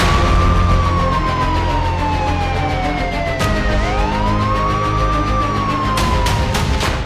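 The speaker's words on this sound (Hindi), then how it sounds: "जिसके बाद फायर डिपार्टमेंट की गाड़ियां सायरन बजाती चली आईं।" Fire department trucks wail with sirens, a loud close tone sweeping down and up in long cycles, with sharp horn-like blasts near the end.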